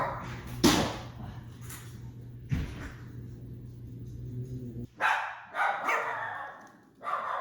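A dog barks aggressively in a few sharp, loud bursts spread over several seconds, with a low rumbling hum underneath and a cluster of quicker barks near the end.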